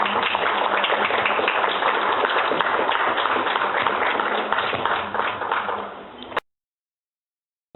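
Sustained audience applause at a legal forum on justice and dignity, dense steady clapping from a full room lasting about six seconds, then cutting off abruptly to silence.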